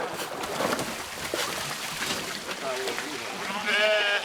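Sheep from a flock being dipped bleat several times against steady outdoor background noise, with one clearer, closer bleat near the end, while a person speaks over the scene.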